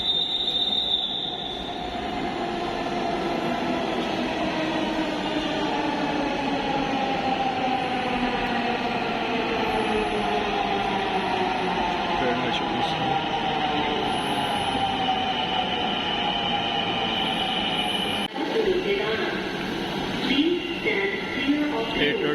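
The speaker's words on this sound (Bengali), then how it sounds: "ট্রেন আসতেছে" A metro train rolls in with a long rising and falling whine and steady rumble, brakes squealing faintly as it slows at the platform.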